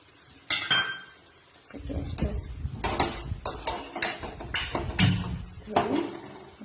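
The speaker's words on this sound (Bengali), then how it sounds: "এবার বাটিটা ধুয়ে একটু জল দিয়ে দিতে হবে।" Bowl being rinsed and handled in a home kitchen while cooking chicken curry, with repeated clinks and knocks of dishes and utensils, splashy clatter at a close, steady pace, no talking.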